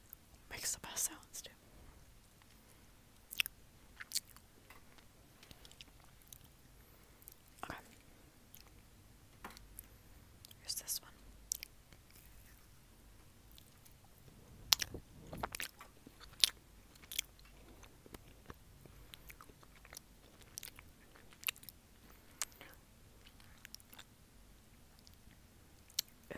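Chocolate being chewed close to a microphone, including a dark chocolate and a coconut variety, giving intermittent crunchy, wet mouth clicks and bites scattered through a quiet background, with soft whispering throughout.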